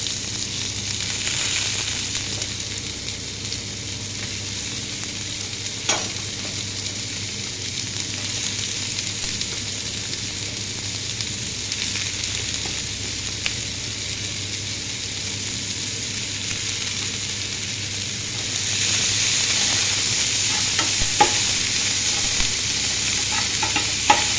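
Finely chopped onions sauté in a hot pan for masala dosa filling, a steady close sizzle with occasional stirring knocks, rising louder and brighter near the end, with no talking.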